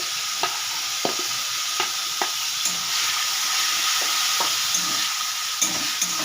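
Spice masala with a splash of water sizzling in a pan for egg curry, a constant hissing fry with occasional sharp taps and scrapes of a stirring spoon, close and unaccompanied by talk.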